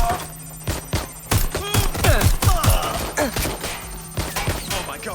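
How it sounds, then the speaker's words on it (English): Rapid bursts of gunfire from the video game Watch Dogs: Legion, loud and close, firing in uneven volleys with sharp impacts layered over one another. "Shots fired!"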